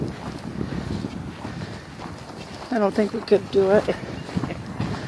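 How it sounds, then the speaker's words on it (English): Wind buffets the microphone out on a frozen lake in winter, a steady low rumble running under the whole clip while people talk close by. "It's pretty windy"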